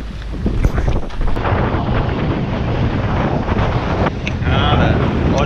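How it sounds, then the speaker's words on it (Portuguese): Strong wind buffets the microphone with loud, continuous rumbling roar along a coastal path near Red Beach on Santorini, with faint surf-like wash underneath. "Cara, olha o vento"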